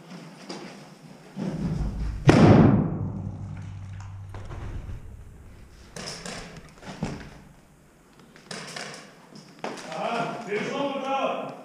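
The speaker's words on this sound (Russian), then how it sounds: "Граната" Loud sharp thump of an airsoft grenade going off during an outdoor airsoft game, a single bang with a ringing decay, followed by shouting and talk from players.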